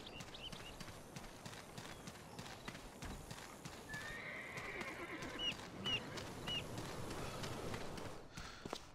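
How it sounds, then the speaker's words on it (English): A horse in the combat video game Hidden & Dangerous 2 clip-clops in a quiet, steady rhythm under low outdoor ambience, then gives a few short neighs and whinnies. "Oh, it's just a very ill-looking horse."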